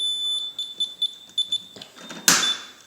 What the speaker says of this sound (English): Okay, the alarm's off.